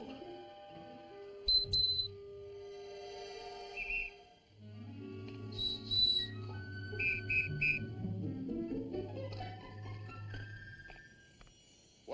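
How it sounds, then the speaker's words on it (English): Whistle made from an eagle's wingbone in a 1952 western film, sounding a few short shrill blasts in a quick cluster over soft orchestral music, with no one speaking. "Whistle made from wingbone of eagle."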